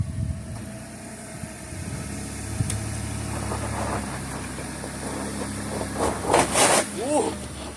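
A Ford F150 with a Raptor swap and no sway bar crawls up a homemade ramp with the locker engaged, its engine droning steadily at low revs while someone talks over it and the strain rises near the end.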